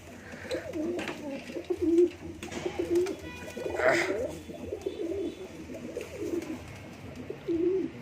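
Pigeons coo softly in repeated low, throaty phrases, several birds close by against a quiet outdoor background with faint chirps.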